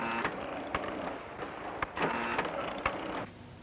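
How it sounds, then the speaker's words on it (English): Pie-making machines rolling, filling, folding and pinching dough clatter along in a steady mechanical whir, punctuated by regular sharp clicks and thumps. "different machines do each job. Rolling, filling, folding, pinching."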